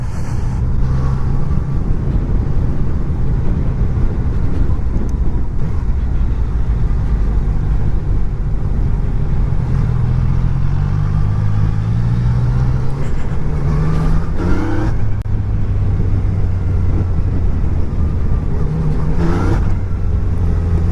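Engine of a 2019 Yamaha Niken three-wheeled motorcycle while riding, a steady loud droning rumble with wind noise that rises in pitch as it revs, running continuously throughout.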